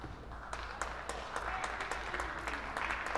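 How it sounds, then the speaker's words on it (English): A crowd at a women's college basketball game applauding as a player fouls out, steady scattered clapping throughout, moderately distant, with faint talk mixed in. "She's applauded as she goes to the bench."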